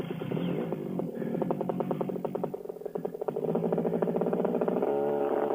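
Small aircraft engine at full throttle sputtering and cutting out during an emergency, a steady loud drone broken by rapid uneven pulsing and brief dips in power throughout.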